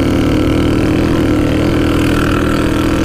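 A Shineray motorcycle engine drones loud and close in a steady, unbroken hum, holding an even pitch without clear revving.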